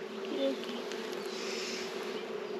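Honeybees buzz steadily around a lifted hive frame, a dense, continuous drone close by with individual bees passing near; a voice speaks briefly over it.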